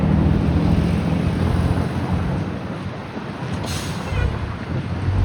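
Strong wind gusts across an outdoor street worksite in Chicago where storm-damaged temporary power lines are being repaired, a loud continuous buffeting roar on the microphone that dips slightly mid-way and then rises again.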